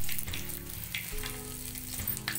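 Bay leaf and panch phoron spices fry in hot ghee in a pan, a close, steady crackling sizzle with small popping bursts and a faint stirring scrape.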